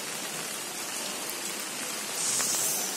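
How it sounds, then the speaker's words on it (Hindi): Heavy rain pours down at night in a dense, steady hiss, close and constant, growing slightly louder toward the end. "बहुत बारिश हो गई।"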